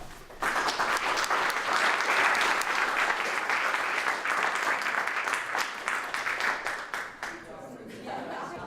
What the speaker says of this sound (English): please do give a round of applause for our panel.